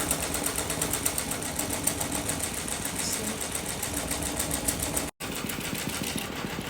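A monogram embroidery machine stitches a design with a fast, even, rapid-fire needle clatter that runs steadily and close, broken once by a brief dropout.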